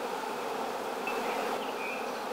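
Honeybees buzzing on a brood comb during hive work, a steady dense hum of many insects filling the background evenly and without pause.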